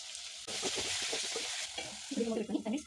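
Tomatoes go into a curry base in a clay pot while biryani is cooked traditionally: a steady, close sizzle of frying with scraping stir strokes, growing busier and louder toward the end, with no talking.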